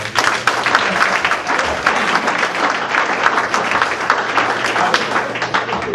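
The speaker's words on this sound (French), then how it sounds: "Est-ce que tu peux acclamer pour toi-même?" An audience at a youth gathering bursts into dense, sustained applause with some crowd noise, loud and continuous for the whole stretch.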